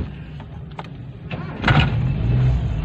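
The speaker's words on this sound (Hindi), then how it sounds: "ये हमने गाड़ी स्टार्ट की है" A Suzuki Cultus engine cranks and catches after a few faint clicks, settling into a steady low idle that continues to the end.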